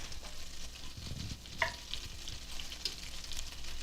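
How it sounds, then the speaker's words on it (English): Chicken broth and rice simmering in a pot for a creamy risotto with peas and parmesan, giving a steady close bubbling hiss with a couple of sharp utensil clinks against the pot, no voices. "Okay, so it's starting to simmer, so I'm just going to turn it down to medium-low."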